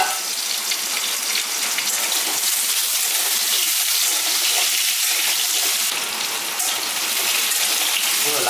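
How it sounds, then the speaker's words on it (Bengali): Potatoes frying in a pan give a steady, loud, hissing sizzle that runs without a break, bright and crackly, with no talk over it. "প্রথমে কিন্তু আলুগুলো ভেজে নেবো।"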